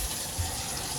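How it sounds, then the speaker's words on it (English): Water runs from a kitchen tap into the sink, in a kitchen where the garbage disposal sits below the sink; a steady, fairly loud gushing rush that continues without pause for about a second. "I'm going to turn the water on."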